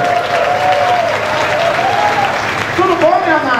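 Loud, sustained crowd applause at a nightclub show for birthday guest Leonardo, dense and continuous, with cheers and voices rising through it toward the end.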